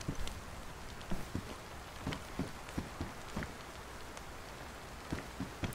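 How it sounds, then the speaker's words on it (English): Rain falls steadily in a survival video game, a soft continuous patter with scattered louder drops tapping on a surface. It stays fairly faint throughout, with no talking. "It's raining out there."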